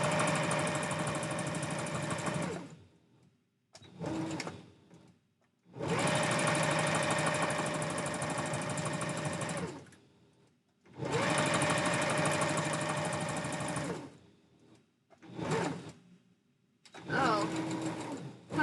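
Sewing machine stitching fabric for a Santa hat, running in several loud bursts of steady whirring, a few long runs and shorter quick spurts, separated by brief pauses.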